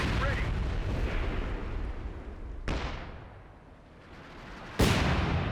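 Vet 3 Scott self-propelled gun firing an artillery barrage in Company of Heroes 2: two sharp, heavy booms a couple of seconds apart, each followed by a rolling rumble that fades, over a constant din of distant battlefield noise.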